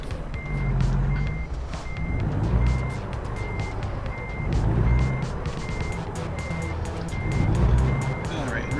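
A truck in American Truck Simulator backs up, its reversing alarm beeping in an even, steady rhythm over the loud, rising and falling rumble of the diesel engine, with a voice talking faintly underneath.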